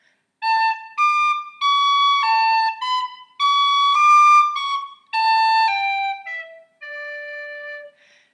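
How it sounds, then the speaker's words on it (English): A tin whistle plays the falsetto variation of The Hag With The Money, a clear, bright phrase of quick connected notes in grouped bursts, ending on a held tone. "The second time we do falsetto though, there's a lovely variation."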